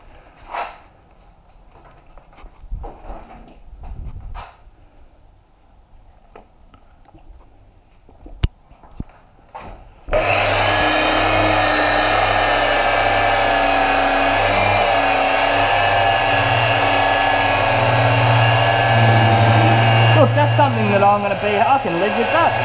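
A machine polisher working car paint straight after wet sanding, starting abruptly partway through with a loud, steady whirring drone that holds at constant pitch after a stretch of quieter handling noises and soft bumps.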